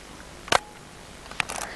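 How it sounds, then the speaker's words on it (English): Two camera shutter clicks, the first a sharp snap, the second a brief double click followed by a short rattling burst, in a quiet room. "trigger the shutter and listen."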